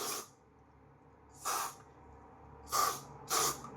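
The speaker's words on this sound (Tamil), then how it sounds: "இந்த மாதிரி அவுட்டரில் யூஸ் பண்ணுங்கள் இந்த ஸ்ப்ரேவை." Spray perfume is sprayed onto outer clothing in four separate short, close hissing bursts with quiet pauses between them.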